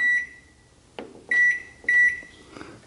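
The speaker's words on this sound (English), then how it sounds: "then you punch in the time" A Toshiba microwave oven keypad gives several short, bright electronic beeps as buttons are pressed, each with a soft click, close and clear in a quiet room.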